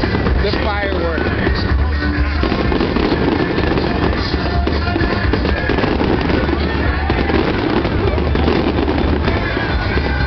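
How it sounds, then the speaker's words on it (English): Continuous crackling and booming of Independence Day fireworks going off, a dense, loud barrage with no pause, voices faintly mixed in. "The fireworks."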